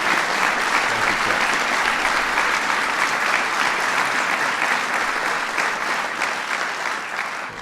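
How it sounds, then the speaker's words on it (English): A large crowd at a bill-signing ceremony for veterans' benefits gives Congressman Chet Edwards a loud, sustained round of applause that holds steady and eases off slightly at the end. "Please give Chet a big round of applause."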